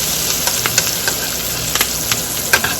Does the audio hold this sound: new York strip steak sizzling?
yes